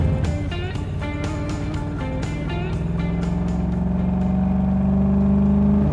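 An Allard K-2 sports car revs hard and accelerates as the clutch is popped, its engine loud and close, rising in pitch through the gears with no talk.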